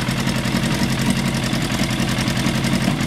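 A 1000cc FZR motorcycle engine, converted in a Ferrari style, idles steadily nearby with an even, throbbing low rumble and a fine mechanical chatter throughout.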